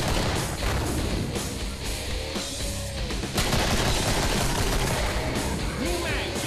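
Heavy gunfire in the Killing Floor video game, a lever action rifle among the weapons, crackles densely and continuously throughout amid loud combat noise.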